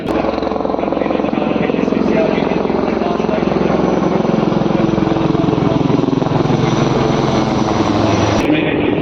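An Apache helicopter flies low over an army parade in Jaipur, its rotor beating in a loud, constant roar that fills the clip, with speech underneath.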